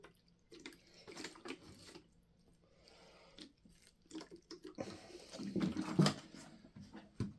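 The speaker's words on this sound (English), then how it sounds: "So we're going to add some water to this whole thing" Water poured over a worm bin with corn cobs and dry bedding, splashing and trickling in uneven bursts that swell louder toward the end, fairly close and with no talking.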